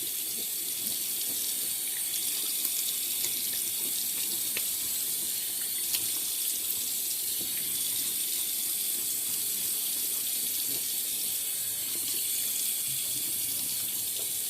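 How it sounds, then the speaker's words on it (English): Steady running tap water splashing into a sink, close and continuous without pause, with no voices. "Now we're gonna wet the brush, get some water on there."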